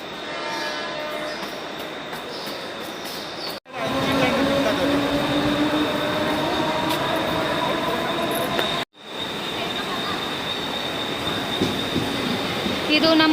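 A train at a Mumbai railway station rumbles past close by, its wheels squealing in long high tones over a loud, continuous roar, with brief cuts in the sound.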